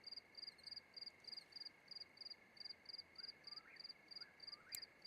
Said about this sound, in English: Noisy crickets out here.